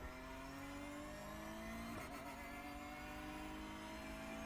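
A Porsche Cup race car in the iRacing sim at Magny-Cours pulls hard through the gears, its engine note climbing steadily and dipping sharply at a shift before rising again, loud and continuous.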